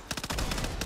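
A short burst of automatic weapon fire from the zombie shooter Back 4 Blood, fast rhythmic shots packed into under a second, loud and close with no talking.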